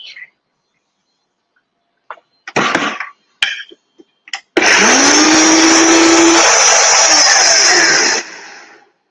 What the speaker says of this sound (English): I'm gonna whiz this in the blender really quickly